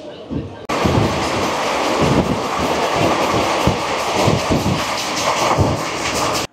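A Howrah–Malda Up Intercity Express via Azimganj pulling into Nabadwip Dham: steady loud rumble and wheel clatter heard from near the open door, with rhythmic clacks and wind buffeting throughout.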